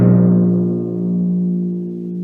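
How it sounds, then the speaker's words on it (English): A single timpani stroke with a medium all-purpose mallet sounds a loud, clear low tone with a slightly firmer attack, ringing steadily and slowly fading for about two seconds. "this is more of a medium type of mallet that is generally all-purpose"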